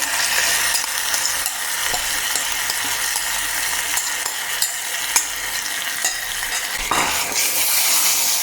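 Curry mixture stirred in a hot pan, a steady loud sizzle with repeated scraping strokes of a spoon against the metal, close and continuous throughout.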